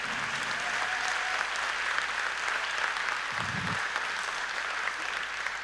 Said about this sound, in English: let's give our military a big clap because we love them